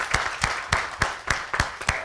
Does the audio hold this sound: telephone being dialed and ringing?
no